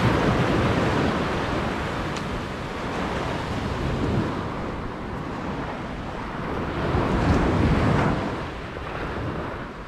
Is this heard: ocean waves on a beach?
yes